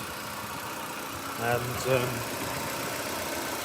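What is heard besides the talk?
Nissan Micra 1.2 16v engine running smoothly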